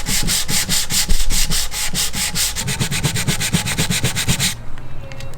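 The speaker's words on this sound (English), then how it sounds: "we're gonna sand the paint off the lettering. We got a sanding block, some 400 grit" Rapid, even back-and-forth strokes of a sanding block with 400-grit paper rubbing paint off raised lettering, close and steady, speeding up toward the end before stopping.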